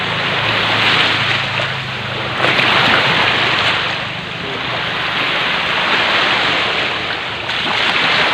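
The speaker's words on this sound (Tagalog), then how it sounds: "Murag kani siya nga balod," Sea waves surging loudly against the shore, a continuous roaring wash that swells and eases in slow cycles, mixed with strong wind buffeting the microphone and no clear voices.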